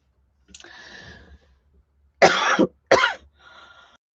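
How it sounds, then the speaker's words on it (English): A soft breathy sound, then two sharp, loud coughs in quick succession, followed by a faint exhale. "I'm just coughing and sneezing like crazy"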